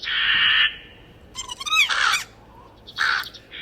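Crows squawk and caw from within a Christmas tree in three harsh bursts separated by short pauses, fairly close and loud against a quiet background.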